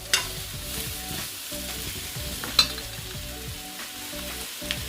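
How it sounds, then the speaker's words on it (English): Chicken pieces sear and sizzle in a very hot pot for Jamaican curried chicken, a continuous crackling hiss with stirring scrapes and occasional sharper pops, close and steady with no voices. "We're searing the meat to seal in the juices"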